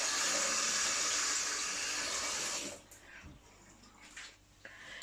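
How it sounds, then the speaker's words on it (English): Tap water runs in a steady loud rush while hands are washed in a home kitchen during fish cake prep, then cuts off abruptly, leaving quieter handling noises and faint clatter. "Wash your hands."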